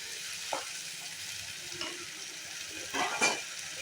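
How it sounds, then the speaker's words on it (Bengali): Masala with finely chopped tomato sizzles and fries in a pan as a spoon stirs it, giving a steady hiss broken by a few scraping stirs, close and moderately loud with no talking. "এরপর দিয়ে দেব মিহি করে কেটে রাখা টমেটোটা দিয়ে তিন চার মিনিট আমি চাপা দিয়ে মশলাটাকে কষিয়ে নেব"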